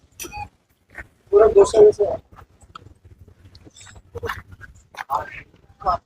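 A puppy yelps and whimpers in short bursts at a native cattle exhibition, mixed with people talking nearby and some shuffling movement.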